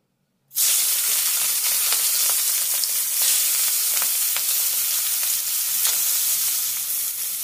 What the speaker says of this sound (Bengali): এবার আমি চিংড়ি মাছগুলো এর মধ্যে দিয়ে দিচ্ছি।